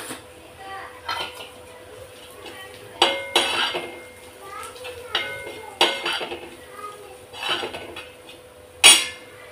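Masala is sautéed and stirred in a pan, the spoon scraping and clinking against the metal in uneven bursts, close up, with sharper knocks at intervals and a voice speaking now and then.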